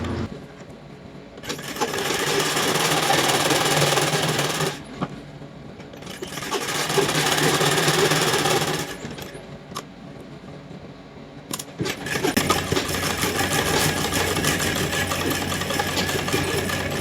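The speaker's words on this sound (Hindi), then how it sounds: "अब हम कॉलर की शेप के साथ साथ जैसी शेप है वैसे सिलाई लगाते चले जाएंगे कॉलर पर।" A sewing machine runs in several bursts while stitching along the curved edge of a collar on a co-ord set. The loud continuous whirring is broken by short pauses, with no talking.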